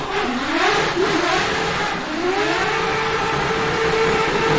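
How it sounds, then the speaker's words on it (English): A 1000HP Mazda rotary-engined McLaren P1 revs hard and close, its high, buzzing engine note climbing and falling in sweeping waves without a break. "The sound of that rotary is so amazing."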